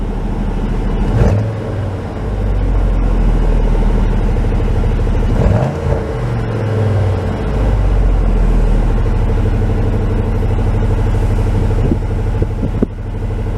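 A 1996 Chevrolet Tahoe engine idles close by with a steady low rumble, its rpm surging and dropping a few times as the transmission goes into gear. No one speaks.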